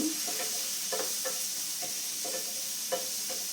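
Onions sizzle in a pan while being stirred for a mango curry, with a steady frying hiss broken by repeated soft scraping strokes throughout, close and moderately quiet, with no voices.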